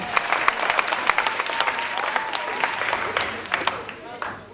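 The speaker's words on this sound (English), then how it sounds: "A round of applause for them." Audience applause for contestants at a school quiz competition, a steady burst of clapping from a crowd in a hall, moderately loud and continuous with a few sharper claps.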